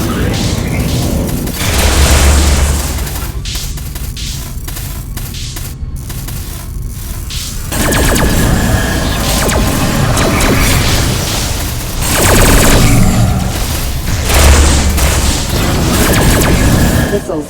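Repeated deep booms and bursts of missile hits strike a ship in the space combat game Rebel Galaxy, with loud surges under a continuous wash of battle noise.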